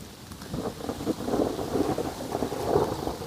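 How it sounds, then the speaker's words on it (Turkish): Deep thunder rolls and rumbles continuously over steady heavy rain at Güzelyurt, Cappadocia, loud and close, with no voices. "Gök gürültü şu an."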